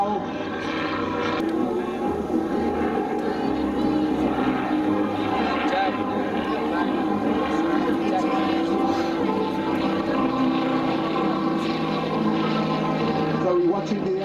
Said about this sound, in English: So we're watching the aircraft now as he shows us the underside of the aeroplane